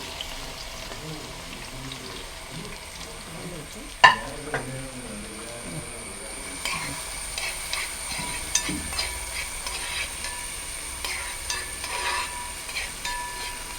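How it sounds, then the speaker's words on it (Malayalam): Shallots sautéing in oil in an uruli pan for Kerala-style beef fry, a low steady sizzle with occasional stirring scrapes and a sharp clank near the start, in a village kitchen setting. "ചെറിയുള്ളി നമ്മൾ ആദ്യം വഴറ്റിയെടുക്കുകയാണ്."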